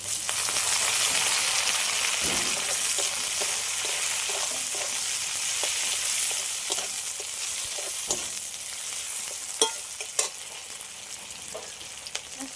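Onion and chopped tomato fry in a pan, giving a steady sizzle under repeated scraping and stirring strokes. A few sharper clacks near the end.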